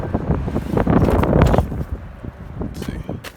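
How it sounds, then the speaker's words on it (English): Cold, dusty wind gusts across an outdoor auto auction lot and buffets the microphone, loud at first and then easing into softer rustling bursts. "It's windy,"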